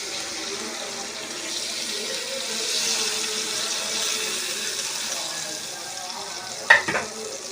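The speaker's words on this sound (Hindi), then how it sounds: "तो पानी डालते हैं इसमें।" Water pouring into a pot of spiced masala for chicken biryani, a steady broad splashing and sizzling wash running throughout, with a brief sharper clatter near the end.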